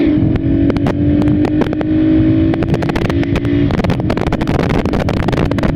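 A brand-new RPS Racer 140cc Chinese motorcycle engine held at wide open throttle, a loud steady droning engine note with sharp clicks and rattles throughout, close and continuous.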